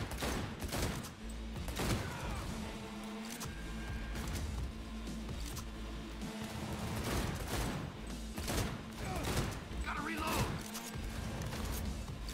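Rapid gunfire in the shooter game Cyberpunk 2077, dense bursts and repeated shots running almost continuously over a steady background, with a player talking at times.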